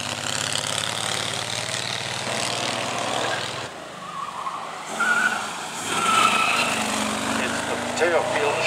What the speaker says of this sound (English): That's a Hall Scott 10-litre engine, four-cylinder, huge big banger.